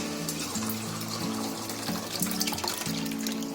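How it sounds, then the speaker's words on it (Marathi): Cooked lentils (dal) pour steadily into a pot of sambar, a continuous wet, liquid rush lasting a few seconds over a low tonal hum. "आता याच्यामध्ये आता मी डाळ ओतते"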